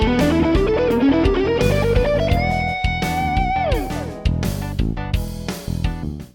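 Distorted electric guitar plays a fast pentatonic and diminished lick over an E dominant 7th backing vamp, with rapid note runs, a sustained bend and a sliding descent, loud and up front.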